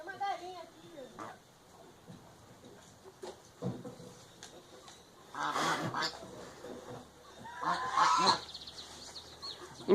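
Geese honk in scattered bursts among chickens, some loud and close, with a few fainter calls between and people talking around them.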